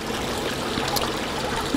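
Water flows as a thin film across an algal flow way at an outdoor research facility, making a steady, fairly loud rushing trickle with no pauses and no talking.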